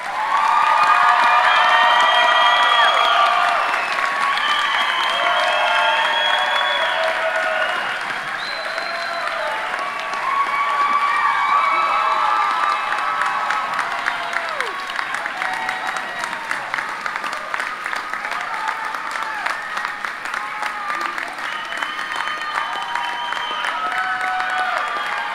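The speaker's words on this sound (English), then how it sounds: "Let's give the class of 22 a round of applause." Sustained audience applause with scattered cheers and whoops for a graduating nursing class at a spring pinning ceremony, loud and dense at first, then easing slightly but continuing steadily throughout.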